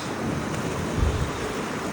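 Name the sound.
heavy wind while riding an electric scooter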